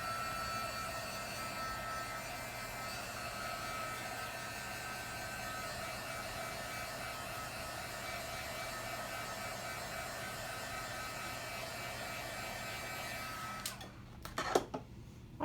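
A heat dryer blowing on wet paint on a craft project gives a steady whooshing hum for about fourteen seconds, then cuts off, followed by a few soft clicks.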